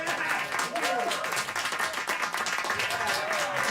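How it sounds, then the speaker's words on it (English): Enthusiastic applause from a small theater audience plays as a sound effect, brisk dense clapping with a few excited whoops over it and talk running underneath. "in this case, it's small theater enthusiastic audience"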